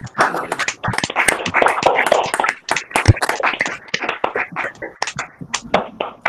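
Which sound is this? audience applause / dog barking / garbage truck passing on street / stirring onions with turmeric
audience applause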